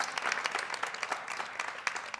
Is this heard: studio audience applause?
yes